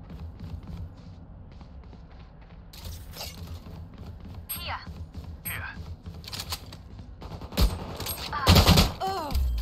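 Gunfire in the video game Valorant: scattered sharp shots and short bursts of automatic fire with mechanical clicks and metallic rings, growing louder and denser toward the end.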